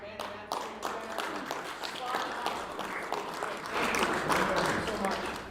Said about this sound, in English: Big round of applause for the band.